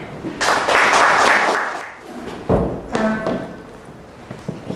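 Brief audience applause at an academic literature colloquium, a short burst of clapping that fades within a couple of seconds, followed by scattered thumps and shuffling.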